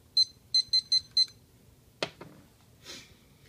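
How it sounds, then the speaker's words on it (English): A kitchen timer beeps five times in quick succession as it is set for steeping coffee in a bamboo travel tumbler, followed by a couple of sharp clicks and a soft rustle. "Set my timer."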